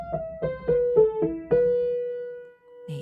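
A slow piano melody of about six notes, each struck clearly and left to ring, the last note sustaining and fading before a faint click.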